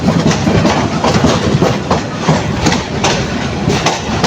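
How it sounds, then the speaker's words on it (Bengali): Passenger train pulling out of Chittagong station bound for Dhaka, a steady loud rumble of wheels and carriages with a continuous clickety-clack rhythm running throughout. "আমাদের গাড়ি আস্তে আস্তে ঢাকার উদ্দেশ্যে রওনা হচ্ছে চট্টগ্রাম স্টেশন থেকে"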